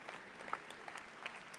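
A crowd in Jerusalem applauds as six families of hostages walk onto a stage. The clapping is steady, faint and distant, with no speech over it.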